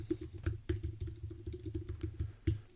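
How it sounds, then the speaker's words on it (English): Quiet, close keystrokes on a computer keyboard tap out a short project name in quick, uneven clicks. "I'm going to type the name of my new project."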